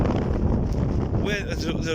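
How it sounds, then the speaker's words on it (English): Strong wind, about 30 mph from the northeast on a Cumbrian beach, buffets the microphone in a constant, heavy rumble, with faint higher whistling tones near the end. "it's very windy. It's about 30 miles an hour."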